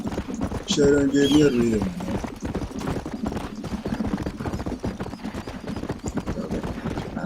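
Horse hooves clip-clop at a steady, brisk pace in Red Dead Redemption while someone talks over them, along with a short musical or vocal flourish near the start.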